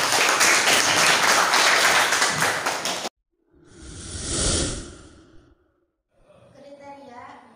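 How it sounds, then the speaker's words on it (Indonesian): A high school economics class breaks into a few seconds of loud, dense clapping that stops abruptly, followed by a breathy whoosh and faint rustling noises. "Tepuk tangan."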